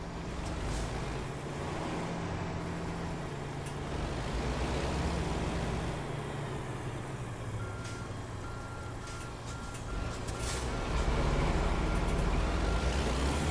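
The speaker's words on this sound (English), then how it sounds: "I hear a truck, the truck running." A truck engine running in a video game: a steady, fairly loud mechanical rumble throughout, with reversing-style beeps and brief clicks layered on top.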